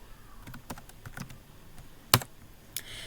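Scattered keystrokes on a computer keyboard while coding a React project, a handful of separate close clicks with one sharp louder tap near the end, otherwise quiet.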